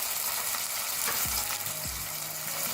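Onion and garlic-ginger paste frying with chopped tomato and ground spices in a pan, a continuous close sizzle with a few low clinks as the mixture is stirred.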